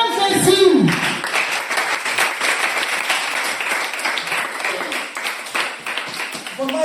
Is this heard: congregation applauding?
yes